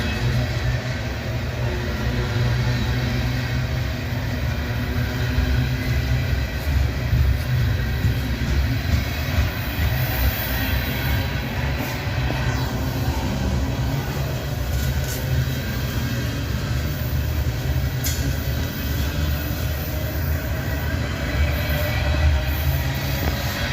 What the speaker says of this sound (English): I could stand there and get a train.